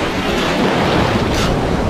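Steady broadband rush of stormy Black Sea waves and surf at Anapa, loud and continuous, with wind noise across the microphone and no voices.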